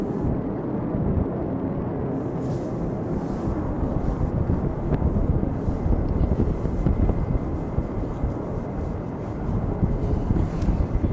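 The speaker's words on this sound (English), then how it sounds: "the wind's definitely got up a little bit more" Wind blows at night outdoors near an airbase, a steady, broad rushing roar with gusty buffeting on the microphone throughout, fairly quiet and with no one speaking.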